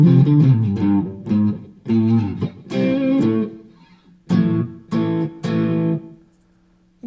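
Short-scale electric guitar with single-coil pickups played through overdrive, strummed chords and ringing notes in separate bursts with short pauses, close and fairly loud, no talking.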